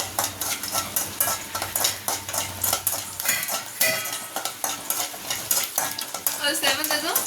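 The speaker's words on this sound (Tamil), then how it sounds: "2 காஞ்ச மிளகாய் கிள்ளி போட்டுக்கிறோம். அதனால சிவப்பாக வறுக்கிறோம்." Two dried red chillies frying in hot oil in a pan, a close sizzle mixed with rhythmic metal clinks and scrapes of a spoon stirring against the pan.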